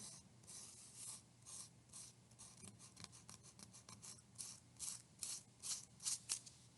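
Sandpaper smoothing a cut wooden piece for a Delta Dart model: a faint, steady run of rhythmic rasping strokes that speed up slightly toward the end, with no talking.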